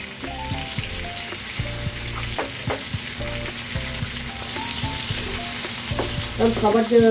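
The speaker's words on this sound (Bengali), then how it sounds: "আমি আমড়াগুলোকে এই তেলে একটু নেড়ে নেব।" Hog plums (amra) are stirred in hot oil with salt and turmeric in a pan, giving a loud continuous sizzle with repeated rhythmic scrapes and clacks of a spatula close by.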